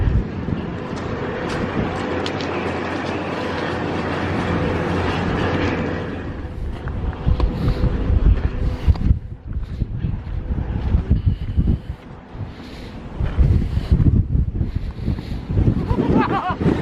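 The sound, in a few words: wind blowing on a mountain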